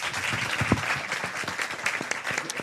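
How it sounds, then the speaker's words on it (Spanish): Audience applause from a live improv comedy show fills the room, steady dense clapping heard close and loud for the whole stretch. "pues un fuerte aplauso"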